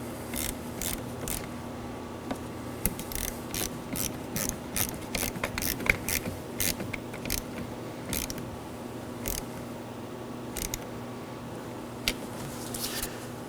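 A ratchet with a 10mm socket snugs down the positive battery terminal on a 2013-2019 Nissan Sentra, giving a long series of quick, close clicking bursts in uneven runs over a faint steady hum.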